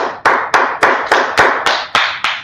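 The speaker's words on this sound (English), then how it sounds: "Let's clap it up for the Lord" An audience claps for the Lord in a slow, regular beat, with about eight sharp, loud claps evenly spaced and close, each ringing briefly before the next.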